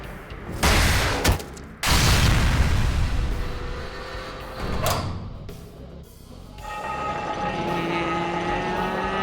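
Explosions in the video game AI: The Somnium Files: loud, rumbling bursts crash in close succession, then ease into a lower rumble with a droning tone underneath.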